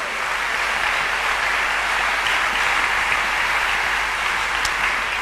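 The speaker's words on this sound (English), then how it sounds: "So please, one more round of applause for the Year 13 ensemble." A school audience claps for the Year 13 ensemble at a live-streamed event, dense continuous applause from a large crowd, even and sustained for the whole stretch with no voices.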